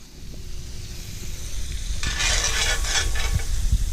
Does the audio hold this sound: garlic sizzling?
yes